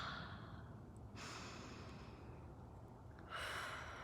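Slow, quiet breaths drawn in and let out during a calming breathing exercise on a wellness walk in nature, two soft airy exhales standing out over a faint steady background.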